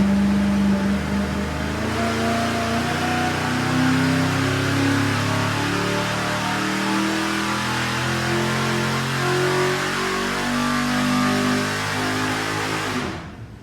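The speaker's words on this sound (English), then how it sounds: "That thing, that ignition has a bad misfire." A car engine with HEI ignition runs steadily on a test stand with a bad ignition misfire, a continuous uneven mid-pitched drone that holds for about thirteen seconds before cutting off abruptly at the end.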